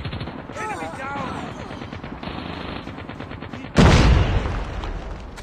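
Gunfire in Call of Duty Mobile: steady rapid automatic fire runs throughout, topped near the end by a sudden loud burst of shots, with radio-style game voice lines mixed in.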